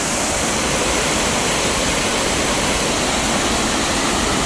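Water on Halfmoon Creek near Leadville, Colorado rushes down over a dam in a steady, loud, broadband roar, continuous and close with no voices or other sounds.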